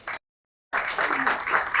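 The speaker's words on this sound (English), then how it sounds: "could we have a round of applause for IIPTF first?" An audience at a pet industry talk applauds a trade organisation, a brief burst of clapping, then a gap of silence, then a fuller, sustained round of many hands.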